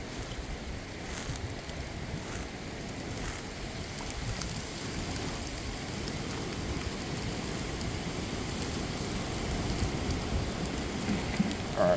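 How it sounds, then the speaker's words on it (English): Heavy rain pours steadily, a dense, continuous hiss and patter across the whole stretch, with no pauses. "It's pouring down rain."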